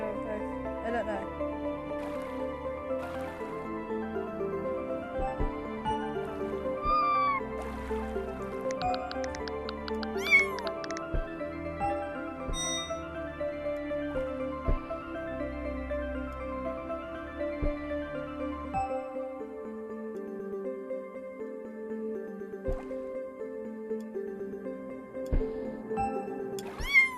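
Repeated cat meows from a video game, sounding over a steady bed of looping game music with tonal chimes, the meows rising and falling in pitch throughout.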